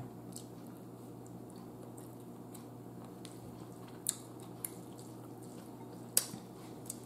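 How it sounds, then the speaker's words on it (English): Close, quiet chewing of a beef sausage slathered in barbecue sauce, with soft wet squishes and occasional sharper bites or smacks breaking through a steady low background hum; no talking. "I'm just chewing"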